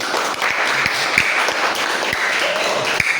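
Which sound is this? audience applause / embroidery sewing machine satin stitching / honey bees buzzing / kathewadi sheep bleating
audience applause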